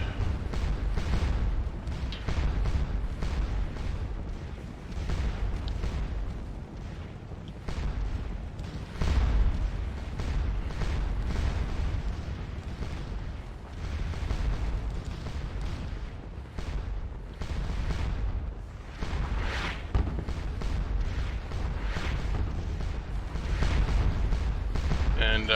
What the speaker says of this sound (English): I may have brought too much artillery over here.